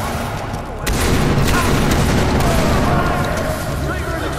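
In the Far Cry 3 video game, a loud explosion booms as gunfire crackles in sustained bursts, dense and close throughout.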